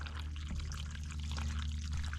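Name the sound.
water draining out of old truck radiator tube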